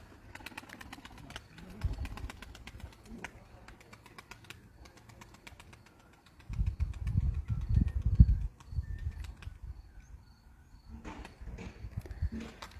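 A pigeon coos softly in low, throaty bursts amid faint outdoor ticking and rustling, with quieter gaps in between.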